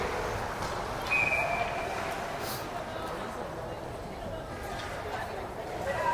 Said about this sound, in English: I'm not sure what the whistle was.